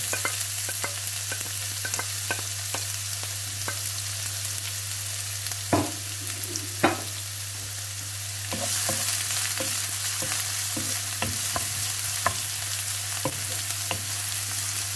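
Chopped onions and green chilies fry in hot oil in a pan for Goan squid cafreal, with a continuous sizzle and scattered scraping clicks as a spoon stirs them.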